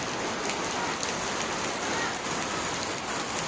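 Steady heavy rain pours down on surfaces in Konkan in May, an early pre-monsoon shower, forming a continuous dense hiss with no pauses, no thunder and no voices.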